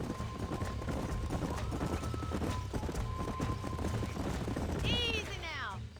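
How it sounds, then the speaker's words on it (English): Horses trotting in Red Dead Redemption, a steady clip-clop of hooves up close, then a sharp whinny near the end, with game ambience and a faint tone underneath. "These are fine horses."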